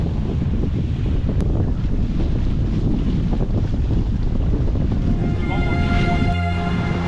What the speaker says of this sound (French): 15 nœuds de vent au travers, je crois qu'il n'y a rien de mieux.